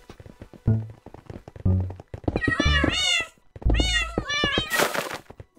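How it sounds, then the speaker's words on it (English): Cat meow sound effects from the Hypixel Minecraft game mode play as blocks are placed, several short harmonic mews following soft block thunks, with a voice talking over parts of it. "If you place your block on the block that's right, it makes a cat sound."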